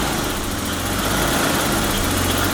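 A BMW E34 barn-find car engine idles steadily, a low continuous rumble with a faint mechanical hum, close by and unchanging, no voices.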